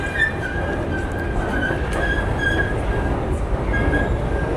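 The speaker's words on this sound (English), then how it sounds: "Got the trains going by there." A train rumbles past steadily at a moderate distance, with a low continuous roar and faint metallic squeals riding on top.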